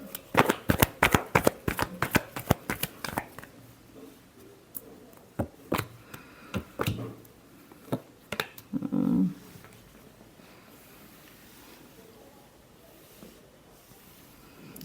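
Tarot cards are shuffled by hand in quick riffling bursts and sharp slaps, close and clear, then the handling tapers off into near silence.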